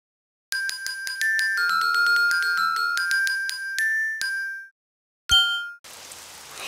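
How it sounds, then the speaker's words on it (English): A bright chiming melody from a children's cartoon plays, stops, then gives way to a brief burst of steady hissing rain. "Oh, it's raining outside."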